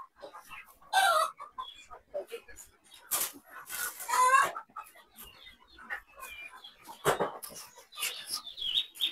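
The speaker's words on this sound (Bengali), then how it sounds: "কত দেশি মুরগি এখানে।" Desi chickens on a rooftop farm cluck and cackle in scattered bursts, several birds calling near and clear with short quiet gaps between them.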